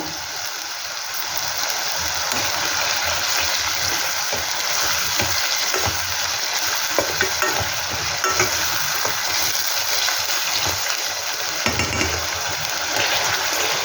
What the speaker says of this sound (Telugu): అప్పుడు దాకా దీన్ని ఇలాగే మాడకుండా కలుపుకుంటూ ఇది తొందరగా ఏగటానికి నేను కొంచెం సాల్ట్ వేస్తున్నానండి ఇందులో